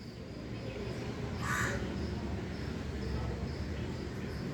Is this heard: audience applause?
no